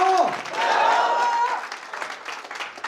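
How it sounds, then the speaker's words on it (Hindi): An indoor audience at a promotions event in a hotel hall claps together in a brief burst of applause that fades quickly, with a voice speaking over it. "ताली ऐसे बजा रहे हैं"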